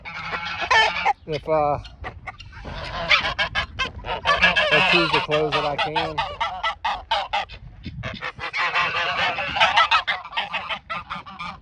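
Several geese honk loudly and repeatedly, overlapping in a noisy chorus, with someone speaking briefly near the start.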